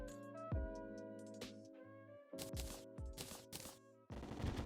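A rocket-firing gun in the video game Terraria shoots in quick bursts, sharp blasts and thuds repeating over musical game tones, with no speech.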